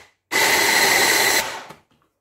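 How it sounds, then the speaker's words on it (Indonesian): Electric blender grinding finely sliced spice paste for beef rendang, a loud steady whir starting abruptly, running about a second, then winding down as the motor stops, with no talk. "Terus ini kita blender aja."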